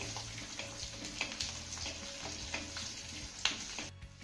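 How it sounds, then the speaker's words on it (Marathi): Ginger, green chilies and melon seeds sauté in a pan with a quiet continuous sizzle, broken by repeated spatula taps and scrapes, close but soft, fading out at the end. "आता हे सर्व साहित्य आपल्याला एक मिनिटभर चांगलं परतून घ्यायचं आहे"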